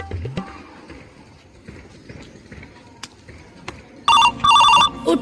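A telephone rings in an Indian comedy sketch, two loud bursts of electronic ringing near the end after a stretch of low background noise and faint movement.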